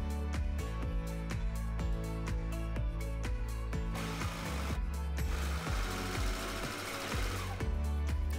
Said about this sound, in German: Auch das wieder mit der Overlock.